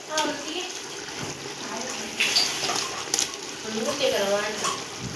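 Tap water runs steadily while two kilograms of chicken are washed for biryani, a splashing, gushing flow with occasional knocks, close and fairly loud, with a voice speaking over it.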